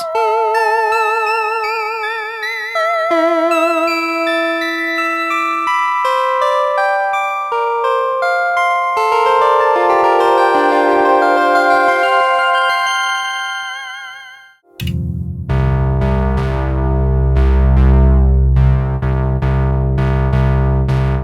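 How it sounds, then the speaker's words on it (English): Bell-like tones from an Oberheim OB-Xa analog synthesizer, slightly out of tune, ring out as a loud series of chiming notes with long decaying tails and echo, ending in a dense, sustained low chord. "Some bells."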